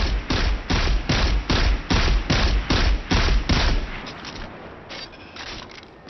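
Scout rifle firing in Destiny 2, about ten evenly spaced heavy shots in a steady rhythm, loud and close, followed by quieter mechanical handling sounds as the firing stops.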